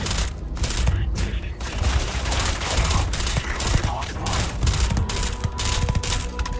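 Gunfire in the video game Starfield, a continuous loud barrage of rapid automatic shots with booming impacts, dense and close, with a voice occasionally over it.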